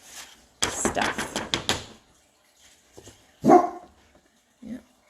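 A puppy barks in a short rapid burst of yaps, then gives a few more isolated barks after a pause, fairly close, with some faint clatter in an indoor room.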